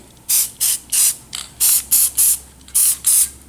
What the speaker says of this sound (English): Once the collet and anvil are cleaned and dried, you can place a light coating of thin film lubricant.